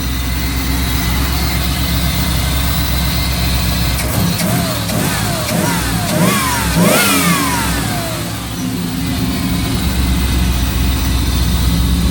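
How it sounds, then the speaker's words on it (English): A 1988 Pontiac Trans Am GTA V8, shortly after a cold start, loud and close: a steady idle, then several quick, snappy throttle blips rising and falling in pitch, before it settles back to idle. "Just rev it up real quick with the throttle so you can see how there's no backfiring, no nothing."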